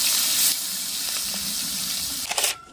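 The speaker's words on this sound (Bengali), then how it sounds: "প্রচণ্ড ফাটে, তার জন্য মাছগুলো আমি ঢাকা দিয়ে দিয়ে ভাজবো।" Shing fish (stinging catfish) frying in hot oil in a covered pan for a Bengali posto jhal curry, giving a steady, loud hiss and spatter that drops off abruptly at the end.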